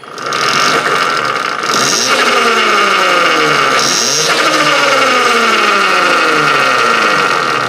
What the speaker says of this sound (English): I'm going to put it in gear. Okay, we're in mode 1, and I'm going to give it some throttle.